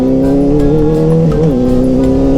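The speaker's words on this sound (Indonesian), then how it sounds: "Wah gokil nih suara knalpot nih." A Honda CBR600 sport motorcycle fitted with an Avionik racing exhaust, close and loud, roaring with a deep, rumbling tone that wavers briefly as the throttle shifts.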